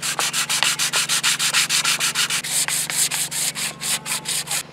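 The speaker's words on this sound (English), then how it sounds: "So that's the main part of the sanding completed." An orbital sander buzzes against a narrowboat surface in quick, regular rhythmic strokes, loud and close, with a steady motor hum underneath.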